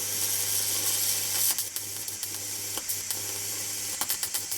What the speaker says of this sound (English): So I just keep going here, welding little spots,